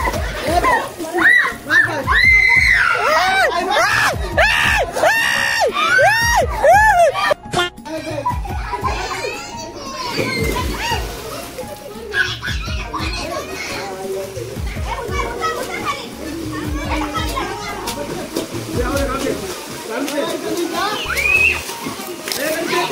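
Children splash and play noisily in a swimming pool, with water sloshing, kids shouting and laughing, and adult voices talking over the steady, lively commotion.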